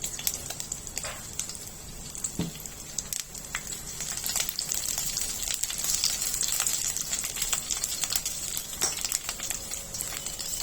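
Green chilies and garlic sizzle steadily in hot oil for Chicken 65, a dense continuous crackle with scattered sharper pops, close and fairly loud throughout, with no voices.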